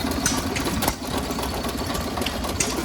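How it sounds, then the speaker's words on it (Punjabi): A small old engine, fuelled by syringe, runs at a fair of century-old vintage tractors, putting out a rapid, even mechanical chugging up close that stays continuous and unbroken. "ਛੋਟੇ ਛੋਟੇ ਇੰਜਨ ਵੀ ਦਿਖਾਵਾਂਗੇ ਜਿਨ੍ਹਾਂ ਨੂੰ ਸਿਰਫ ਸਰਿੰਜਾਂ ਰਾਹੀਂ ਜਿਵੇਂ ਕਹਿ ਦਈਏ ਤੇਲ ਪਾਉਂਦੇ ਆ ਉਹਨਾਂ 'ਚ"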